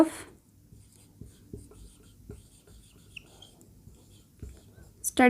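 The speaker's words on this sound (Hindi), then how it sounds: "तो यहाँ पे हम लिखते हैं स्टडी" A pen writes on paper in soft, faint scratches and taps under quiet background hiss, with a voice speaking only briefly at the edges.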